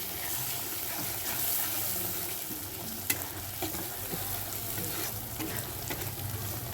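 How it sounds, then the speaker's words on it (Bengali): Chopped tomatoes sizzle steadily in a hot pan while being stirred, a continuous close frying hiss with scattered scrapes and clicks of the spoon against the pan. "তারপর দেওয়া হবে এই যে টমেটোগুলো, কাটা টমেটো রেখে দিয়েছি কেটে,"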